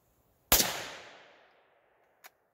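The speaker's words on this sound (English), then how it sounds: "let me do a little bit of shooting on what I consider one of the funnest calibers to shoot in a rifle." A single sharp crack from a Savage Model 93G .22 Magnum rifle, loud and close, with a long echo trailing off across open ground, then a faint short knock about a second and a half later.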